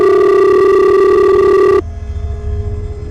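A mobile phone rings from a pocket with a steady, loud electronic tone that cuts off abruptly after about two seconds, leaving a low, quiet rumble.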